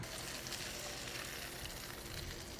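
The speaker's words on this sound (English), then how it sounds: "we're going to go ahead and flip them again and get that other side seared a little bit better" Porterhouse steaks sizzle on a Ninja Woodfire Grill, a steady, fairly faint broadband hiss and crackle with no pauses.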